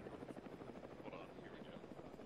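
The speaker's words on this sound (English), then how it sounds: "Helicopter." Helicopter rotor in a military combat setting, a steady rhythmic thumping drone that runs throughout under excited voices calling out to each other.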